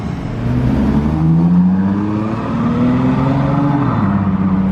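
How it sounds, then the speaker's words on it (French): Ferrari 599 SA Aperta V12 engine revving up and settling, a steady loud rumble with rising and falling pitch, no talking. "Le V12 est présent."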